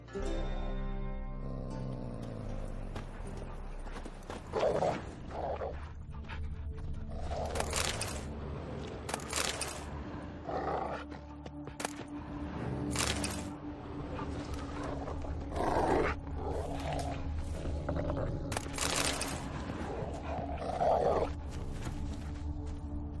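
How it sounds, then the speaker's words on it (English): Dogs growl and snarl in The Witcher 3 game world, coming in repeated loud bursts over a low ambient drone with some animal roaring. "Just beware of the dogs."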